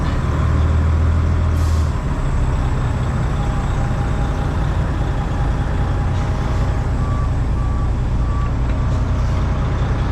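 A tractor-trailer backs a jackknifed trailer in at a loading dock, its diesel engine rumbling steadily and loud throughout while a series of evenly spaced reversing beeps sounds faintly over the engine in the second half.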